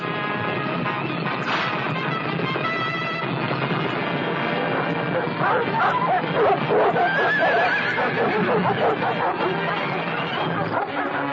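Horses neighing and whinnying in a 1940 period adventure film scene, several loud calls rising over a busy background of hooves and faint crowd chatter.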